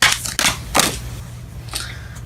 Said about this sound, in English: we're gonna shuffle one more